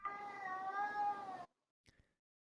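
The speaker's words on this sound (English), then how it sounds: "I hope that's a cat, not a kid being tortured." A cat lets out one long, drawn-out wailing meow lasting over a second, followed by a faint short click, with no talking.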